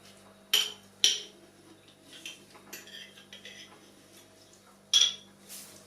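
A metal utensil scrapes and clinks against a glass jar to work out leftover herb residue for a cold-infused oil, giving a few sharp close taps among quieter scraping and rustling.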